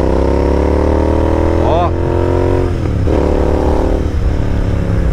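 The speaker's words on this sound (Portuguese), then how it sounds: "eu tô aqui com uma ponteira, né, da Customer, que tá dando esse estralo aí na moto, tá vendo?" A motorcycle fitted with an aftermarket Customer exhaust tip runs loud and close, its engine note rising in revs with crackling pops, while a person talks over it.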